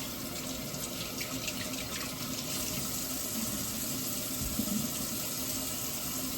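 Tap water runs steadily into a sink while a jackfruit is washed, a continuous broadband splashing rush at even loudness with no voices.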